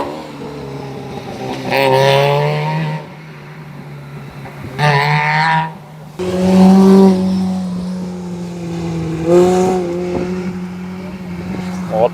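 A BMW rally car revving hard and driving past at a rally event, with loud rising and falling engine notes through several gear changes, close and dominant over background crowd noise.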